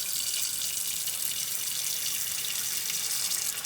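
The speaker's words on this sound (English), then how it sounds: "we are going to fill this pan up with water." Tap water pours into a cooking pan in a kitchen sink, a steady close hiss and splash that runs continuously without breaks.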